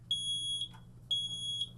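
Smoke alarm beeping in two clear, loud high-pitched bursts about half a second apart, each pair repeating once, over a low background hum with no talk.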